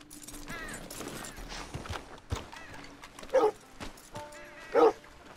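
Two short dog barks ring out a second apart amid quiet game-like background sounds and faint talking, in the video game Red Dead Redemption II.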